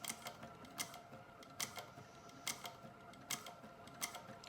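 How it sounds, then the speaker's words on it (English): A sewing machine stitches through straps in a quiet room, sharp mechanical clacks repeating at a slow, even rhythm over a faint motor hum. "I'm not gonna make you sit here and watch me stitch this whole thing"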